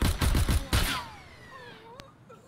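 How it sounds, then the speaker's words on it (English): Gunfire in the video game Escape From Tarkov: a quick burst of several sharp shots followed by one heavier, louder shot, then a long echoing decay with a faint ringing tail and no talking. "I don't know where that shot came from"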